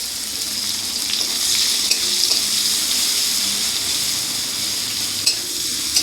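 Onions frying in oil in a pan, a steady close sizzle with occasional stirring scrapes, no voices.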